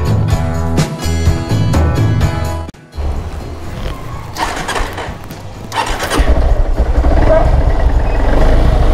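A motorcycle engine is cranked and started in winter, with stuttering turnover bursts, a brief cutout, then a loud, rough idle rising close by under occasional voices.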